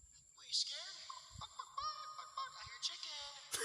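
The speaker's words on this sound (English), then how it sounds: "I hear chicken." Chickens cluck in a series of short, bright calls over a quiet background, with a few brief low thumps between them.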